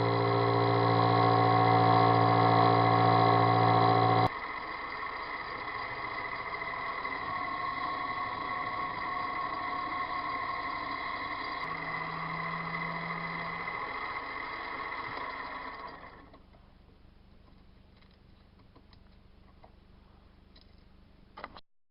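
A lathe turns a round pulley blank cut from a plastic cutting board, giving a steady machine drone with a high ringing whine that drops in level partway through, ends in quiet with a single click, and has no talking.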